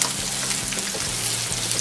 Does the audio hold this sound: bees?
no